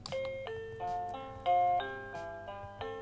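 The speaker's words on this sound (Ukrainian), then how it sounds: "Тут ми можемо вибрати один із шести мелодій будильника." A children's rabbit night-light alarm clock plays an electronic chime melody of clear, bell-like tones stepping in a steady tune, close and moderately loud with no talk.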